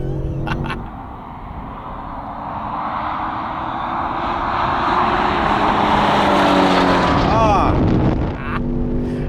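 A big Range Rover SUV engine roars steadily, rising in pitch and intensity as it accelerates, with a brief mechanical squeal near the end; no talking over it.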